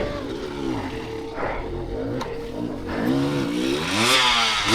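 A motorcycle on a dirt ride revs its engine hard in rising and falling pulls, with a rough roar building toward the end, fairly close and loud.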